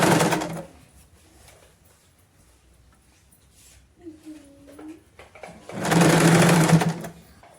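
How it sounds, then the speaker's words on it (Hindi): A sewing machine runs a straight seam on palazzo fabric in two close bursts, a brief one at the start and a longer steady run near the end, with quiet handling sounds between. "अब हम यहां से स्ट्रेट सिलाई लगा लेंगे।"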